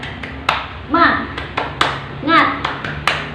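Second-grade children in an Indonesian classroom perform the tepuk semangat clapping chant, sharp rhythmic hand claps in a patterned sequence mixed with their loud chanted voices close by.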